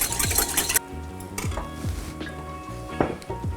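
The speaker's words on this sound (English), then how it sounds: "I'm gonna whisk that together until everything dissolves." A whisk beats a brine of salt and sugar in a bowl, giving quick metallic strokes and clinks in uneven bursts, close and moderately loud, with no talking.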